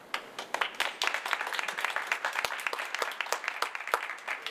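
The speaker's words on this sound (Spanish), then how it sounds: "les doy la bienvenida al doctor y les pido un aplauso" Audience applause welcoming a doctor as he takes the stage for a lecture, a steady patter of individual claps filling the room at moderate volume with no voices over it.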